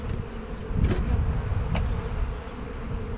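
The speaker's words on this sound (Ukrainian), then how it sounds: "Ось теж дивіться, скільки бджоли" A dense, continuous buzz of many Buckfast honey bees swarming close by at an opened hive, steady and loud throughout.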